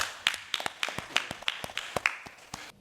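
A small group in a studio claps for a young Nigerian innovator, sparse distinct handclaps at an uneven rhythm, fairly close and moderately quiet, with no talking.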